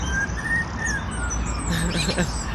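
Birds in trees in Burbank chirp with high whistled calls mimicking a two-tone siren over a rumbling background, a few notes rising and falling briefly.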